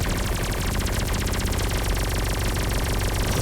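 Rapid, relentless automatic weapon fire from a gunship's four hard-point guns in the space combat game Everspace 2, a dense, evenly pulsing stream of shots that fills the whole span loudly without breaks.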